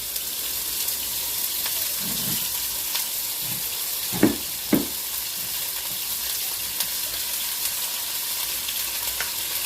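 Ground meat sizzling and frying in a pan as it is broken up, a steady hiss with a few scraping stirs of the utensil.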